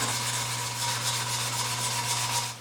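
Continuous rubbing rasp of sandpaper worked over an epoxy resin holder, steady and fairly loud with a faint pulsing rhythm of strokes, a low hum running underneath and no talking.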